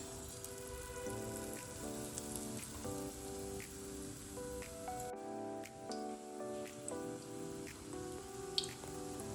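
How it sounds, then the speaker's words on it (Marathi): Green chili bhaji fritters, coated in batter, fry in hot oil with a steady, dense crackle and sizzle that holds at a low, even level throughout. Nobody speaks. "आता काय करणार आहे मी एक एक मिरची यामध्ये घालून आपण आता तळून घेऊयात"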